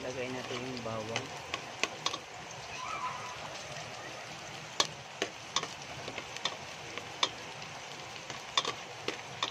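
Garlic sizzling in hot oil in a pan for a homemade spaghetti sauce, with a steady frying hiss and scattered sharp crackles and pops, and a voice speaking briefly near the start.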